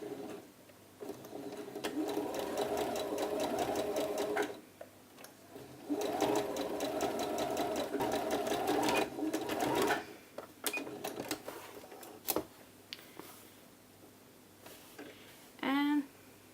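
A sewing machine stitches a blouse seam at a longer stitch length, running in several bursts of rapid mechanical clatter with pauses between, close by; a voice speaks briefly near the end.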